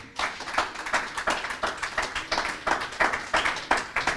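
Church congregation clapping as an offering of praise to God during a sermon, a steady run of group handclaps with rhythmic pulses, fairly close and sustained over several seconds.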